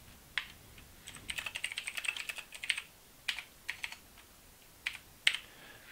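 Keys tapped on a computer keyboard while text is entered into a record editor, with quiet bursts of irregular clicks and a few sharper isolated strokes, close and alone against a soft background.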